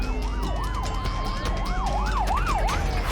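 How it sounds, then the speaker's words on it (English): Wailing emergency vehicle sirens at Bondi Beach during a police response, several overlapping rising-and-falling tones sweeping steadily and loudly over street and traffic noise, with no talking. "The sirens lit up Bondi."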